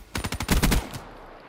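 Light machine gun fire in Black Ops 3, a rapid burst of about eight loud, evenly spaced shots over roughly a second, then a fading tail with no talking.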